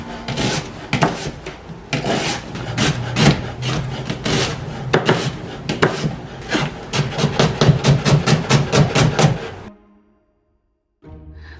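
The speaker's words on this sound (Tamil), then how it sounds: "இப்போ இதையும் வந்து மெல்லிஸாக வெட்டி எடுப்போம். நடுவரை வட்டிட்டு ஸ்லைஸ் பண்ணி எடுப்போம்." A knife thinly slices about 175 grams of onion, cut in half then sliced, with rapid, rhythmic chopping thuds on a board, close and loud, before stopping near the end.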